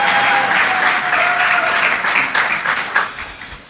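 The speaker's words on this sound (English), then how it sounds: "The Ugandans can clap if they have hands" Sustained applause from a conference audience in a hall, steady dense clapping throughout that thins slightly toward the end, with no speech over it.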